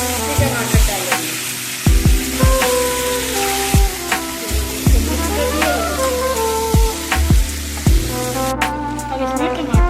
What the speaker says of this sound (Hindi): अब इसको तेज गैस करके तो थोड़ा सा भून लेंगे